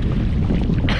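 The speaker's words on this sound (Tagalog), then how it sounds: "Malakas na ang hangin," Strong wind buffeting the microphone while fishing outdoors by fast-flowing water, a loud, continuous low rumble that dominates throughout with no talk.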